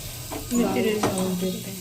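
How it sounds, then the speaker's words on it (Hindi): Lentils frying in hot oil with cumin and garlic: a continuous sizzle with stirring, close and fairly loud, under a woman's brief speech. "मम्मी दाल फ्राई कर रही है, ये देखिए इसमें डाला है जीरा और लहसुन"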